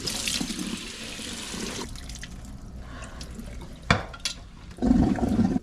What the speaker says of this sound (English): Before you cook any vegetable, you need to wash your vegetable.